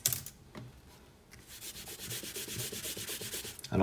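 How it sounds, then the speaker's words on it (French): An eraser rubs out pencil construction lines on paper, beginning with a few scattered scrubs and then settling into quick, rhythmic back-and-forth strokes, close and soft. "On peut gommer nos traits de construction."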